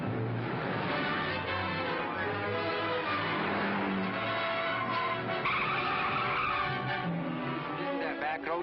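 A car races through a chase in a 1948 film noir, engine roaring continuously as tires squeal and skid, with voices talking over the driving noise.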